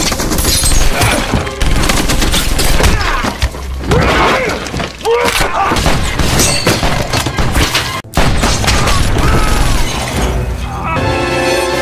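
Dense gunfire from a Die Hard action film, with rapid bursts, shattering glass and heavy thumps crowding together loudly, while a narrator's voice runs over the chaos.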